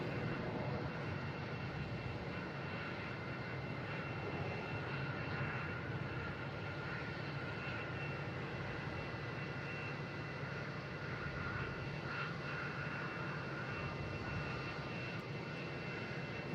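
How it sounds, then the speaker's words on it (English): A Delta Embraer E175 jet airliner takes off at Boston Logan International Airport, a steady broadband engine roar holding level and fairly distant throughout, without fading, with no voices over it. "We have a Delta taking off, heading to Kansas City in E175."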